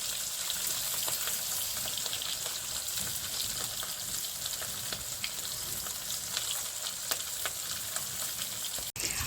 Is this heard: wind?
no